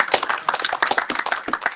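An audience applauds to congratulate a SMPTE Fellow at a section meeting, with brisk, dense hand clapping from a small crowd lasting under two seconds.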